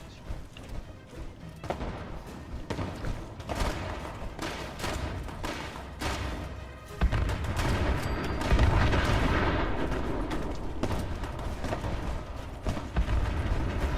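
Dense, continuous explosions and booming blasts in Fallout 76, loud and layered, with heavy low rumbles building after the midpoint and no clear speech.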